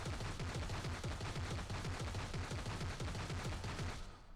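Rapid gunfire from Nick Fury's triple tap skill in the PC game Marvel Heroes Omega, a dense, even rattle of shots sustained loudly throughout before cutting off near the end, with no talking.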